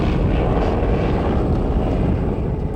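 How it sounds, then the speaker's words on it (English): A Fokker D7 First World War fighter biplane, restored and flying, gives a steady, loud engine and propeller drone that holds without a break from start to end, with no voices over it. "This Fokker D7 is another of the restored aircraft flown"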